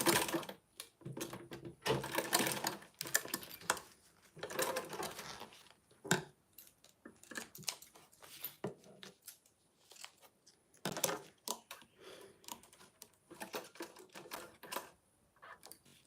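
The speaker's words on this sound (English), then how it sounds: "just going to back stitch." Home sewing machine running in short bursts while back stitching fabric at a seam edge, mechanical clatter starting and stopping repeatedly at close range.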